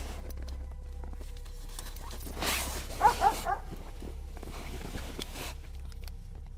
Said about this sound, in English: Later that night, the barking starts again